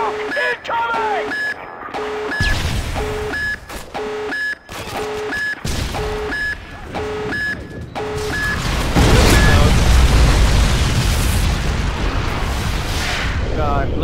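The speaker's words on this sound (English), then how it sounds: "Tactical nuke incoming!" A tactical nuke detonates in a multiplayer shooter game, preceded by repeated electronic warning beeps and short bursts, then a sustained loud broadband rumble swelling and lingering to the end, with players talking over it.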